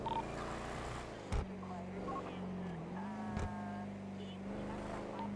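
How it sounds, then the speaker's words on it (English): A car drives in the video game GTA during roleplay, a steady engine drone holding a constant pitch with a slight wobble, with two sharp clicks on top. "I heard a car between Alta and Power."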